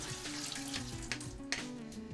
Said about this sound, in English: we're gonna strain the water off of our ham.